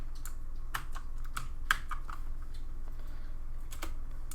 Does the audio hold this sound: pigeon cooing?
no